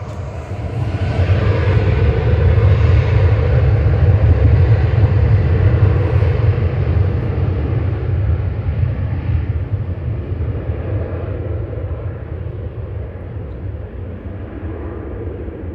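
A Qatar Airways airliner moving at Manchester Airport, a heavy, steady jet engine rumble and roar heard from a distance, swelling slightly and then slowly fading over about sixteen seconds.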